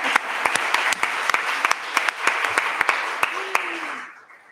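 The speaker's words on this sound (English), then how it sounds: "I see two clapping hands." An audience at a teaching workshop claps in a steady round of applause, with a few sharp, prominent hand claps standing out near the microphone before it fades out, a voice briefly heard toward the end.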